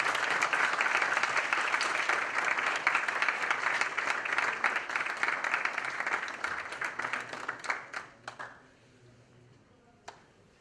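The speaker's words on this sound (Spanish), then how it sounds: "Y le damos otro fuerte aplauso al doctor Felipe para despedirnos" An audience gives a warm round of applause for Dr Felipe at a university ceremony, dense clapping that thins out into scattered claps and fades to a few last hits.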